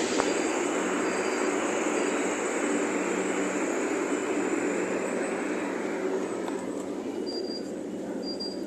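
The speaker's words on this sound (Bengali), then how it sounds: "এই যে মাটির নিচে ট্রেন, মাটির নিচে, মাটির নিচে ট্রেন।" An underground metro train in India runs with a continuous loud rumble and roar that holds steady for several seconds. No voices are heard.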